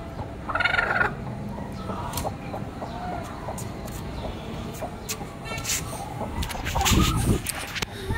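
Hen released from its cage into a yard with grain scattered for it, giving faint clucks and a louder squawking cackle near the end over a noisy outdoor background.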